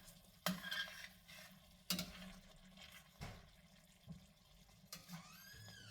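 A dish is stirred in a pan while cooking, giving several sharp scraping clacks spaced about a second apart over a faint sizzle. The sounds are close and fairly quiet.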